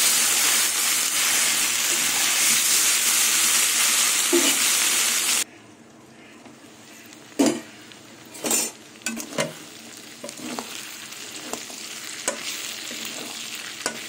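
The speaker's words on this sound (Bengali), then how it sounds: "সবজিগুলো ভালো করে ভেজে নেব ঢেকে রেখে।" Vegetables for a pumpkin-greens and prawn dish fry in a pan with a loud, close sizzle that abruptly drops to a quiet hiss, followed by scattered scrapes and metallic clinks of stirring, with no voices.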